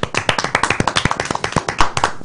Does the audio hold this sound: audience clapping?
yes